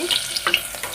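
Chopped onions sizzle and crackle in a hot pan while cooking poori sagu, a brief burst of steady frying noise with no talk.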